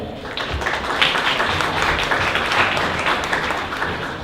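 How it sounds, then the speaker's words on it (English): Audience at a software engineering conference talk applauding a presenter, a steady, dense wash of clapping that holds at an even level throughout. "Let's applaud Gelu and encourage him for the presentation"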